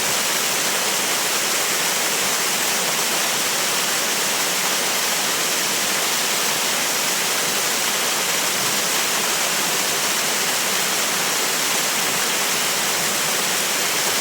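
Gürgüre waterfall in Yukarı Civanlı village during a rappelling descent through the falling water, a steady broadband roar of heavy cascading water that stays loud and unbroken throughout, with no voices.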